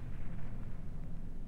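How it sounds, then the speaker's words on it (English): Rumbling explosions in Zelda Ocarina of Time at the Fire Temple, a continuous low booming roar heard fairly quietly with no voices. "Explosions!"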